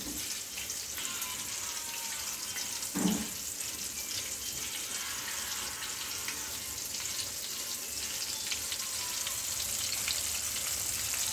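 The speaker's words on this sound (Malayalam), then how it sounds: "നമുക്ക് ഫ്രൈ ചെയ്യാം." Chicken coated in egg and masala frying in oil for homemade broasted chicken, a continuous close bubbling sizzle with one brief clatter early on, steady and unaccompanied by voices.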